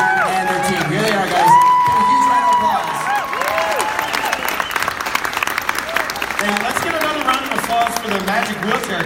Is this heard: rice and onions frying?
no